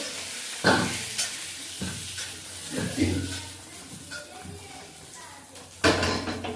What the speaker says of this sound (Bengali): আলুগুলো ভেজে নিয়েছি। আলুগুলো ভেজে নেবো।